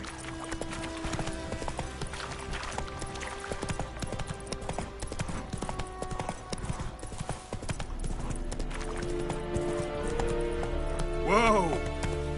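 A horse gallops in the Witcher 3 video game: a fast, steady clip-clop of hooves runs throughout with game background sound, and a whinny rises near the end.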